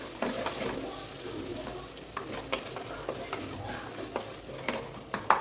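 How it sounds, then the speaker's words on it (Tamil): Tomato masala with curry leaves sautéing in a pan, a steady close sizzle with a spoon stirring and scraping at irregular moments, no talk. "இது நல்லா வதங்கிட்டு இருக்கு."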